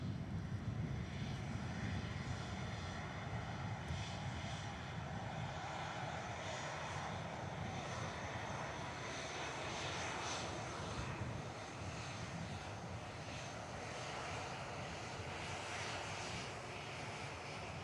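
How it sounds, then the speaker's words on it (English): Jet engines of a Jet2 Airbus A330 lined up on runway 23 left at Manchester Airport hold a steady, distant broadband roar that stays even and continuous throughout, with no voices. "Jet 2, Airbus A330 next to go. Now lined up on runway 23 left for the departure."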